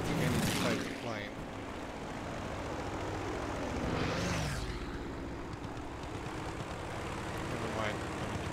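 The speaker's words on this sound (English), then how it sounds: "see a plane on me. I think I need to fight the plane." A fighter plane engine in a Battlefield V match drones and swells as aircraft pass, with a loud roaring sweep midway and scattered battle noise; a player talks over parts of it.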